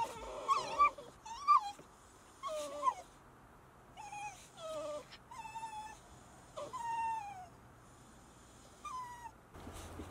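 Beagle hunting dogs whimper and whine in a series of high, wavering cries with short pauses between them, fairly close and alone, before a hunt.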